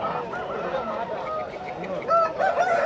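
Country chickens at a village poultry market in Piler, several birds clucking and squawking nearby over a busy crowd murmur, with louder honking calls rising toward the end.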